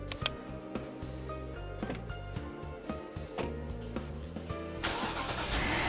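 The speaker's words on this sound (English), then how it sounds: "once the two of them enter the limousine, it quietly heads off" A limousine in the Persona 4 Arena video game pulls away, its engine starting and humming at medium distance under steady background music, the revving rising slightly toward the end.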